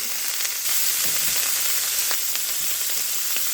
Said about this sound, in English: I will start the sausage in browning up